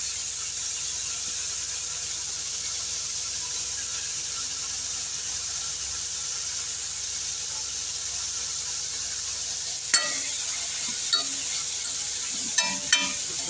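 Crushed garlic fries in a pan for rasam with a steady, soft, even sizzle, joined near the end by a few brief clinks of a utensil against the pan.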